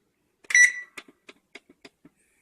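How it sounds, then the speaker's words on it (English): Kitchen oven timer beeping at the end of a salmon bake: one longer tone followed by a run of short, evenly spaced beeps, close and clear with no talk. "the 8-minute timer is about to go off"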